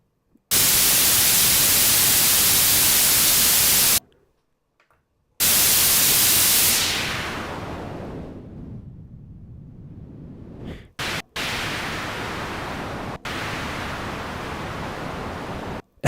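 Broadband synth noise layer on a Roland MV-8800 sampler, loud hissing static bursts that stop and start, one swept down into a darker filtered rush before returning to full hiss.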